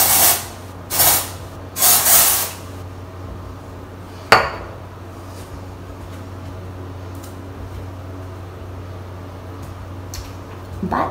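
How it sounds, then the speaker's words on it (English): Dry shampoo and hairspray cans hiss in three loud close bursts onto hair, followed by a sharp click and then quieter rustling and handling, with no talk. "And then sometimes I'll actually even do a little bit of a dry shampoo."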